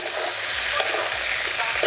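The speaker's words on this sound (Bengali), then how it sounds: "এবার একটুখানি নেড়ে নিলেই হয়ে যাবে।" Cabbage muri ghonto is stirred in a pan, a loud, dense, continuous sizzle with faint scraping running steadily throughout.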